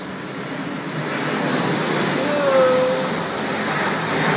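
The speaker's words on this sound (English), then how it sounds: "I enjoy watching the planes come over." A large airplane passes overhead near the Sunabe sea wall in Chatan, Okinawa, its engine drone loud, steady and broad, swelling slightly as it nears.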